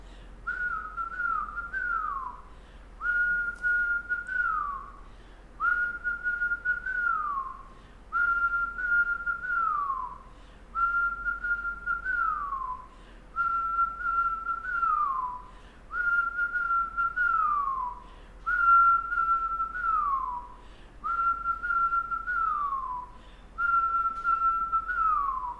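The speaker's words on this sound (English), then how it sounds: "Feel that rhythm and find it in your whistle." Rhythmic whistled out-breaths during a kundalini yoga breathing exercise, about nine sustained descending whistles repeating every two to three seconds, close and steady with no talk.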